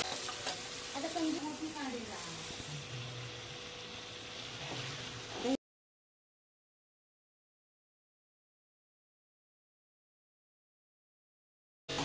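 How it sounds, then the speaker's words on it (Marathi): Onion-coconut black masala paste of roasted onion, coconut, garlic, coriander and ginger sautéing in oil, a soft sizzle with scraping stirs, followed by a long stretch of silence. "यालाही तेल सुटेपर्यंत चांगलं परतवून घ्यायचं।"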